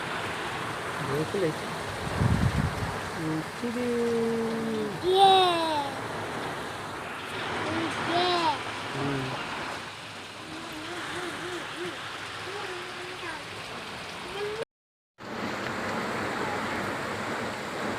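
Steady roaring sea surf and gusting wind during Cyclone Yaas fill the background continuously, with people talking intermittently over the broad, rushing noise and a brief dropout near the end.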